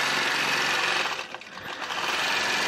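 Fast whirring hum of a quilting machine stitching through fabric, close and continuous with a brief dip midway; no voices.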